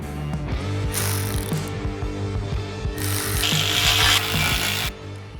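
A ratchet spins nylock nuts down on a 5th Gen 4Runner roof ladder clamp bracket, giving close, rapid clicking strokes in several bursts with brief pauses between them.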